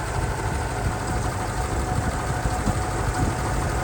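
A 1951 Pontiac Chieftain sedan's Silver Streak straight-eight engine idles with a steady, even rumble, holding close and continuous with no voices over it.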